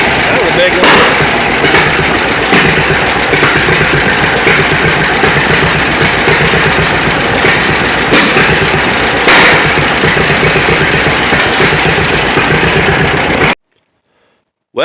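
A John Deere B tractor's engine chugs close and loud with an uneven, rough beat, occasional sharper pops breaking through, then cuts out abruptly into near silence.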